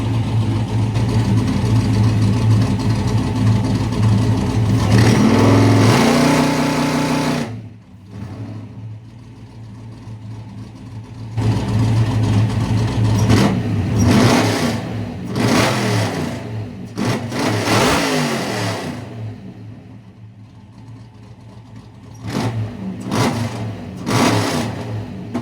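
Drag car engine held on the trans brake and two-step, revving in loud sustained bursts with sharp rev-limiter cuts and drops to a rough idle between pulls, close and dominant throughout.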